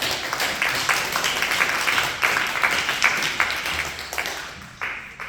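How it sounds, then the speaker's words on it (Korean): Audience applause for a visiting pastor and his wife at a Korean church service, steady overlapping clapping filling the room and tapering near the end. "우리 사모님도 같이 오셨는데 우리 같이 한번 박수 한번"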